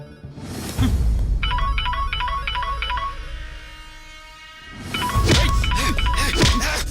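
An incoming call sets off a phone ringtone as a short repeating electronic melody, heard twice in bursts among movement noise and clatter.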